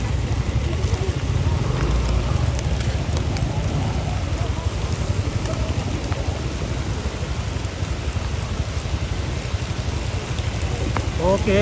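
Steady rain pours at a funeral gathering at a Toraja tongkonan in Sa'dan, a dense constant wash throughout with faint voices underneath.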